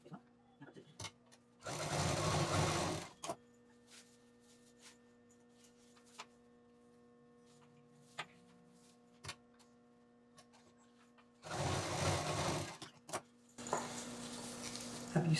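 Sewing machine stitching a shoulder bag with quilted panels, zipper and lining, running in two loud bursts of a few seconds each, separated by quiet handling clicks and taps at home.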